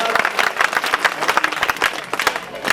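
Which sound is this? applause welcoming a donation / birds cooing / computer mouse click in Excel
applause welcoming a donation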